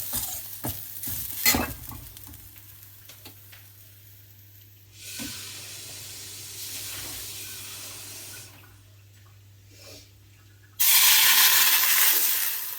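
Chana dal and grated coconut sizzle and hiss in a hot pan as cold water is added, with stirring scrapes, quiet gaps, and a loud burst of steaming sizzle near the end.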